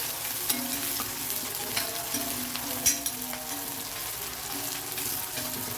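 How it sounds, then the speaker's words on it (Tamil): Small onions sauté in oil for broad bean poriyal, giving a steady close sizzle with occasional soft scrapes of a spoon stirring in the pan. "இப்போ நான் சின்ன வெங்காயத்தை போட்டுறேன். போட்டு நல்லா வதச்சாங்க. இந்த ஆயிலே நல்லா வதங்கணும் ரெண்டும்."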